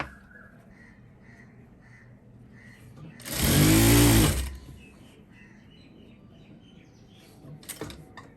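A sewing machine stitches a folded kurti hem in one steady whirring burst of about a second, surrounded by quiet room tone with faint background birdsong.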